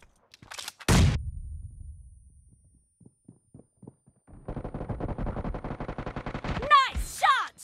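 Gunfire in the mobile battle game PUBG Mobile, a sharp blast followed by rapid bursts of automatic shots with rattling echoes, close and loud, while game voices call out over the action.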